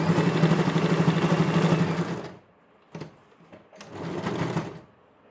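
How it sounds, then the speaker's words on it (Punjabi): A sewing machine stitches a cloth bag strap made from leftover suit fabric, first with a loud, fast, steady rattling run, then a pause, a short burst, and a second shorter run. "ਇਸ ਤਰ੍ਹਾਂ ਸਲਾਈ ਲਾ ਲਾ ਕੇ ਤਣੀ ਮਜ਼ਬੂਤ ਕਰ ਲਿਓ"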